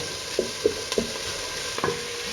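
Chopped onions softening in a hot pan as the base for risotto give a low, steady sizzle, with a few soft stirring knocks spaced through it.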